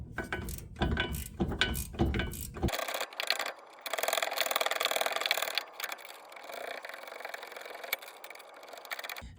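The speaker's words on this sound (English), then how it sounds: "a flex head ratcheting wrench is extremely helpful" A flex-head ratcheting wrench clicks on a sway bar end link nut of a 2011-2019 Ford Explorer. A few quick, loud ratchet strokes come first, then a longer grinding turn and softer clicking up close.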